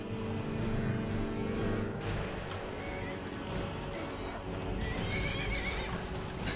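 Horse neighing and whinnying in Skyrim, with clip-clopping hooves and other game sounds in a busy mix that holds at a steady level, ending in a sharp burst.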